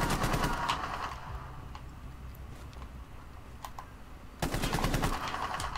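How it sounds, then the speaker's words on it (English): Video game gunfire: rapid automatic bursts at the start and again near the end, with scattered single clicks and shots in the quieter middle. "I didn't mean to shoot that guy!"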